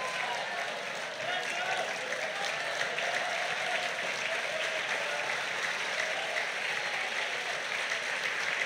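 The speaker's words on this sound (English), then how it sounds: "clap your hands and give God the standing ovation He deserves." Congregation at a worship service applauding in a standing ovation, dense steady clapping that fills the hall at even loudness throughout, with no pauses.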